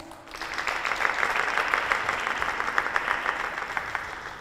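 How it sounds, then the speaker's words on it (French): An audience applauds steadily and fairly loudly at a school trophy ceremony, a dense patter of many hands clapping that lasts the few seconds, with no clear talk over it. "Sous vos applaudissements."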